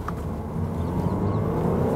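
Audi A5 Cabriolet with a 2-litre diesel engine, 190 bhp, downshifting and accelerating, a loud, close, steady engine drone that rises slightly in strength, with no talking.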